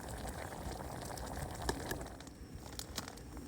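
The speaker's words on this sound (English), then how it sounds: "So there's the peppercorn sauce in, bubbling away nicely." Peppercorn sauce bubbles in a camping pan on a wild camp stove, giving a soft, continuous crackling simmer with small irregular pops, heard close by with no talking.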